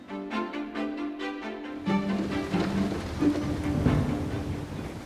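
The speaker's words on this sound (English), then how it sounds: "the wind and the rain is blowing straight into mine" Wind and rain blow across an open outdoor painting spot at Stourhead, a steady rushing hiss with gusty swells and spattering drops, no voices.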